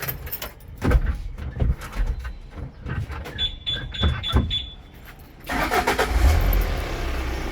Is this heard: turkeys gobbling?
no